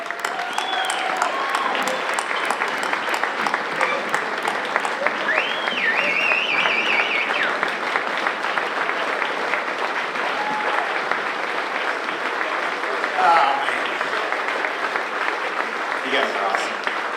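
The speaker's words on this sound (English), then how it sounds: "Let's hear it for two-time Progressive Bassmaster Angler of the Year from Rathdrum, Idaho, the prodigy, Brandon Palaniuk." Audience at the Night of Champions awards event applauds two-time Bassmaster Angler of the Year Brandon Palaniuk, with sustained dense clapping and cheering from a large crowd throughout.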